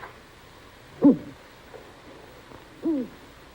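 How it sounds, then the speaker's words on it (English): An owl hoots twice in a quiet night setting, two short soft calls a couple of seconds apart over faint background hiss. "It's our owl, sir."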